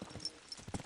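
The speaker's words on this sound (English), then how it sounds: "Let's really spur these horses on, eh?" Horses galloping in Kingdom Come: Deliverance II, a quick, faint run of hoofbeats drumming on the ground in an uneven rhythm over a very brief moment.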